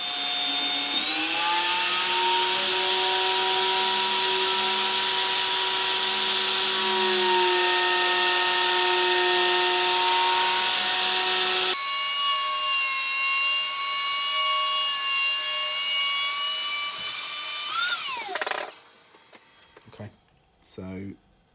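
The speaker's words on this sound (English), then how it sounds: "routed that out as much as I wanted to" Router cutting out a mortise in wood, a loud sustained high whine that holds steady for about eighteen seconds, shifts pitch midway, then spins down, followed by a few faint knocks.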